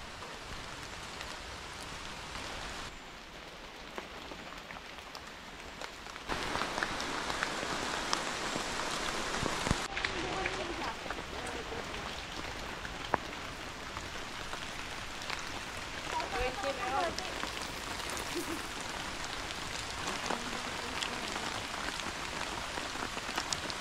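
Steady rain falls through the jungle on Mount Makiling in the Philippines, a dense even hiss of drops on leaves that continues throughout, with some quiet talk beneath it.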